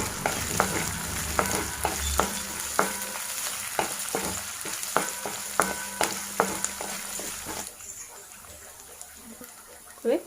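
Dried red chili and green chilies, finely chopped, frying in oil for a Tamil vazhakkai (raw plantain) stir fry: a steady crackling sizzle with repeated sharp clicks of stirring, growing quieter in the last few seconds.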